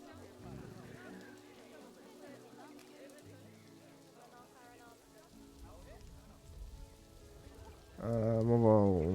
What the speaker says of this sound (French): Il pleut toujours, ça m'énerve.